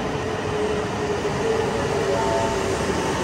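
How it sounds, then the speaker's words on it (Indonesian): Steady rumbling roar of a Japanese high-speed train in motion, a continuous dense rail noise with faint whining tones. "Nah, ini kereta cepatnya cuy."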